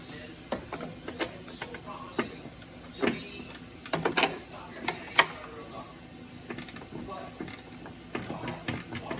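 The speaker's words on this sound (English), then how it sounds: "Use a D12 and a 3/8 inch ratchet." A 3/8 inch ratchet clicks in short, irregular bursts of sharp pawl ticks while working on bolts in a BMW 328i engine bay, fairly close, with brief pauses between strokes.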